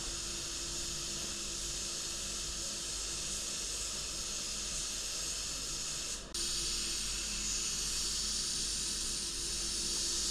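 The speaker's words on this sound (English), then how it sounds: "I'm going to apply the second coat of epoxy primer" A spray gun lays a second coat of epoxy primer onto an FG Falcon Barra engine rocker cover, a continuous loud, close hiss that barely pauses once.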